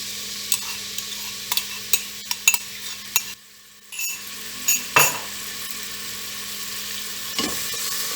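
Onion stirred in a heated pan, producing a steady sizzle with repeated scraping and stirring clicks, one brief quiet gap midway, close and clear with no talk.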